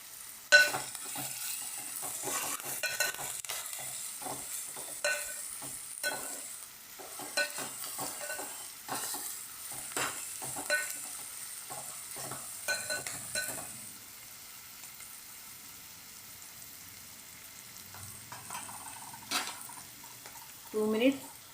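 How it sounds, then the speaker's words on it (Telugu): Onions and green chillies fry and sizzle in hot oil while being stirred in a pan, with steady scraping and soft spatters, loudest early and easing off toward the end. "నూనెలో బాగా మిక్స్ అయిపోవాలండి ఉల్లిపాయ, పచ్చిమిరపకాయలు."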